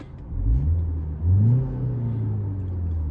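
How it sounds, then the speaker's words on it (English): A car engine rumbles and whirs steadily, swelling briefly as it revs under engine braking while slowing down, then settling into a low droning exhaust note without any talking. "you can hear the engine braking, and the sound and the exhaust give you the feedback"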